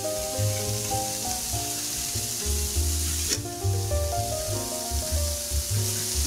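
Onion-style masala paste sizzling steadily in a pan as turmeric goes in for vegetarian keema, a continuous close frying hiss with soft stirring movements under a layer of tonal background music.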